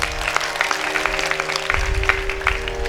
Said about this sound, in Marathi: गायकांसाठी टाळ्या वाजवा